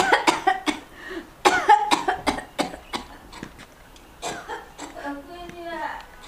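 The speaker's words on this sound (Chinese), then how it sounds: "你这怎么咳嗽了呀" A bedridden elderly mother coughs in a burst of repeated hacking coughs, close and fairly loud. Voices speak between the coughs.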